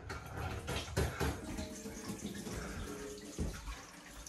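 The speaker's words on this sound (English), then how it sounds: "Running water." A tap runs steadily into a basin inside a back-country mountain hut in New Zealand, a close, continuous splashing rush with a few louder gushes and no voices.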